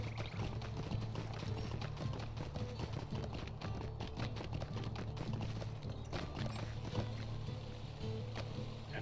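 Horse hooves clip-clop in a steady, brisk rhythm while riding in Lord of the Rings Online's Shire, a continuous even gait at moderate distance over a soft ambient bed.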